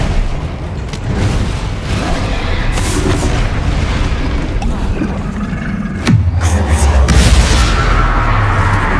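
A Confringo fire spell explodes in the video game Hogwarts Legacy amid continuous battle noise. Booming blasts rise over a dense, loud wash of combat sound, with a heavier burst near the end.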